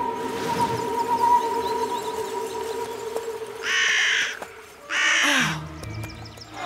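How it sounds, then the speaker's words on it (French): A cartoon crow caws twice in loud, harsh bursts close by, over a quiet animated backdrop with a faint tonal hum. "C'est Micmac le corbeau"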